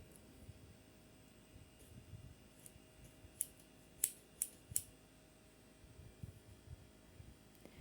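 A pair of scissors fitted with a tip is handled, giving a few sharp metallic clicks and snips close by against a quiet room.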